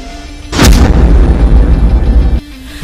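A heavy bomb blast from the Bomber in Clash Royale erupts with a sharp crack, then a loud, rumbling roar that holds for almost two seconds before cutting off, with no voices.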